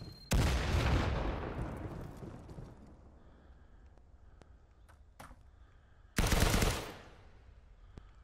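Two loud gunshot blasts in a shooter game, each a sharp crack with a long decaying tail, separated by several seconds of quieter scattered distant shots and clicks.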